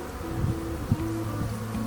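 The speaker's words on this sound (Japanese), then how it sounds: "蜂たちの様子がだいぶ落ち着いてきました。" Honeybees crowd a hive entrance on the first spring day after overwintering, a close, continuous buzzing with individual bees droning louder as they pass.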